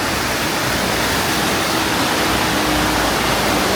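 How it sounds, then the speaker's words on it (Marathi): A waterfall on the road to Bum La Pass near Tawang in Arunachal Pradesh pours in a steady, dense roar of rushing water that holds unbroken for the whole stretch, with no voices over it. "काही धबधबा वाहतो, खूप सुंदर धबधबा."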